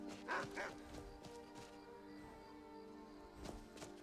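A dog barks a couple of times in the Skyrim video game, quick yips near the start and another bark toward the end, faint beneath a steady game music and ambient bed.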